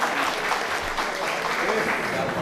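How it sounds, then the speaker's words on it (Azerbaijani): An audience at a Borçalı Society gathering breaks into steady, loud applause that continues evenly throughout, with voices faintly mixed beneath the clapping. "Alqışlarınız gəlsin, dostlar."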